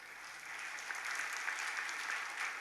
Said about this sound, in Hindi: जितनों की तालियां बज रही है, हम उसको अनुमोदना समझेंगे और संकल्प समझेंगे